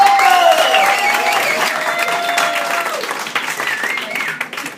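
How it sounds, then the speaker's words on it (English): A comedy show audience applauds a called-up winner, a broad wash of clapping and cheering that fades gradually, with a host's voice speaking over it. "Give her a round of applause, Tina Walker!"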